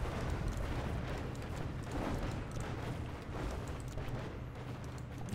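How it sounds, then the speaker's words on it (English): Tier 2 pelter artillery in the strategy game Planetary Annihilation pounds away as a dense, continuous low rumble of overlapping booms, distant and faint, with no talk. "we're using our tier 2 shellers to essentially completely baptize them in"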